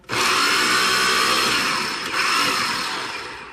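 A food processor chopping white onion wedges, a loud, close motor whir running continuously for a few seconds with a brief dip midway, no talking.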